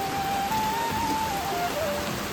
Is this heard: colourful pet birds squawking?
no